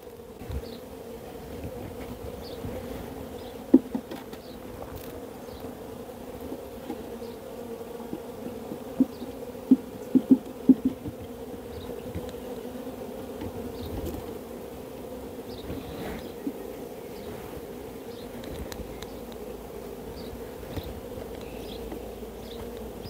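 Honey bees newly hived from packages ordered from Germany fly around the hive in a steady, continuous buzz, with a few louder individual bees passing close by and no voices.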